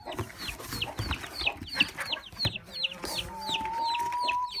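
Chickens cluck in a repeated chirpy series, with a hen and her chicks being settled into a new home, close and fairly steady, joined near the end by a sustained tonal hum.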